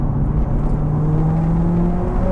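A Mitsubishi Evo X fitted with a G25 660 turbo accelerates hard, its engine drone loud and close with a steady tone rising gradually in pitch.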